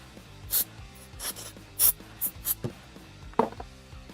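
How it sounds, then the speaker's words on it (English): Excess material is scraped off a 3D printed speaker part in a handful of short, separate rasping strokes, close up and fairly quiet, with gaps of near silence between them. "I'll just scrape it off."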